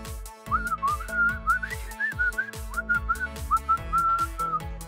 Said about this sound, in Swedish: Hörde du mig vissla?